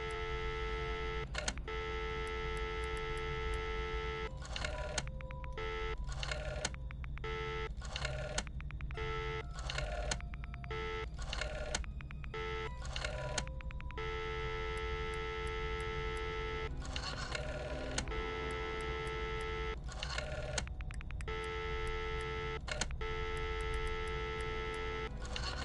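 A telephone in the Friday the 13th video game rings while calling the police, a steady electronic tone broken by repeated short gaps in a regular pulsing pattern over a constant hum, with no talking.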